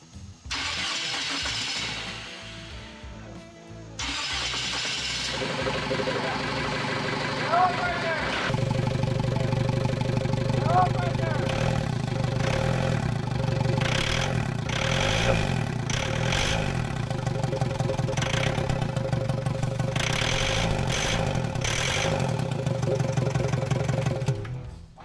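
A Willys wagon's swapped-in TDI diesel engine cranks in a few rhythmic bursts, fires and runs on with a loud, clattery drone, while voices talk over it.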